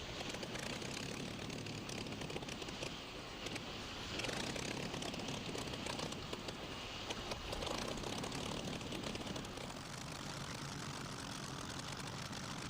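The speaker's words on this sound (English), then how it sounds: "They built the original Spitfire Merlin engine and also the Griffin version, which is in this Mark 19 Spitfire." A Mark 19 Spitfire powered by a Rolls-Royce Griffon engine drones steadily at an air show, a continuous broad propeller-engine roar holding at an even level without speech.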